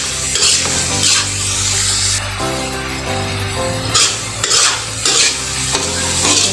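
Sinangag garlic fried rice is stirred in a pan, with loud, repeated scraping sweeps of a spatula over a constant close sizzle and occasional clinks of metal, no talking.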